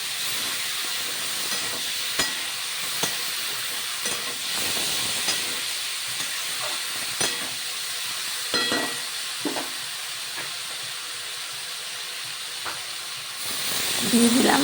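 Fig (dumur) curry with a little curd sautéing in a pan, a steady close hiss and sizzle with occasional faint spatula scrapes and clicks, no talk.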